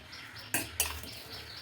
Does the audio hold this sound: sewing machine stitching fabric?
no